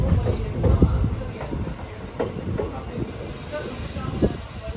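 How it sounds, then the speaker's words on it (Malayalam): Passenger train, the Thiruvananthapuram–Mumbai CST weekly express, pulling into Kadakkavur railway station, with a steady low rumble, hissing and soft rhythmic wheel clatter, fairly near, under faint voices. "കടയ്ക്കാവൂർ റെയിൽവേ സ്റ്റേഷനിലേക്ക് ഇതാ നമ്മുടെ ട്രെയിൻ എത്തിക്കൊണ്ടിരിക്കുകയാണ്."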